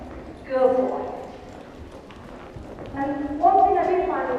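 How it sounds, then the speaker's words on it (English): A ridden horse trotting with a choppy, bouncy gait, hoofbeats steady and close under a rider's voice. "a choppy, bouncy trot anyway"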